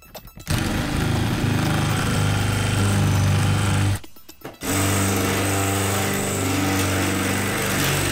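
A power drill bores into a door lock cylinder with a dense molybdenum core, a loud grinding whine running steadily, briefly stopping, then resuming close to the microphone.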